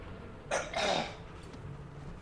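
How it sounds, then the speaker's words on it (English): Two rough coughs close together, the second longer and harsher, against a quiet room hum. "apologise for my coughing."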